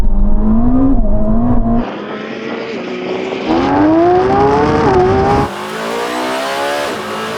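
A Porsche 918 Spyder, a Lamborghini Revuelto and a Ferrari SF90 launch side by side in a drag race, with loud engines revving up through rising gear pulls and abrupt shifts, close and powerful.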